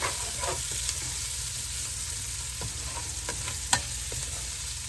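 Sausage and onions browning in a pan, a continuous close sizzle with scattered scraping stirs and one sharper clack of the utensil.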